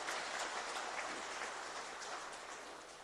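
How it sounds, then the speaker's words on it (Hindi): An audience in a hall at a BJP meeting in Siliguri applauds party president Nadda, a steady wash of many hands clapping that holds evenly for a few seconds and eases slightly at the end. "एक बार तालियां बजाकर नड्डा जी का अभिनंदन करें।"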